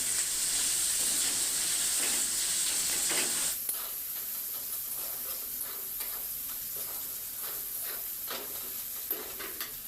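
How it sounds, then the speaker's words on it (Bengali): Spices frying in a hot pan, a steady loud sizzle and hiss for the first few seconds that then drops to a quieter crackle with scattered stirring scrapes, close and continuous, no talking. "মশলাগুলো দিয়ে ভেজে নিচ্ছি।"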